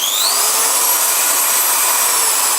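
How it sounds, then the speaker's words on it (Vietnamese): A Hitachi DV18V cordless drill runs steadily in normal drilling mode, a loud continuous high whine with a slight rising pitch at the start, holding constant throughout with no talk. "Bây giờ chúng ta sẽ để chế độ ở khoan thường."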